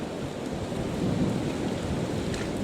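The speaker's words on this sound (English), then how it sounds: "It's so windy" Strong wind outdoors during a hunt roars in a steady, heavy rush, buffeting loudly and close throughout, with no voices.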